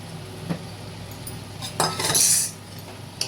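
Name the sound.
prawns with turmeric and salt added to pot and mixed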